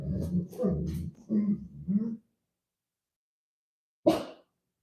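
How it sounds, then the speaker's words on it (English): A dog gives a short, sharp bark-like burst, close and fairly loud, after about two seconds of whimpering, whining vocalizations, then a long stretch of silence. "I know there's doggies"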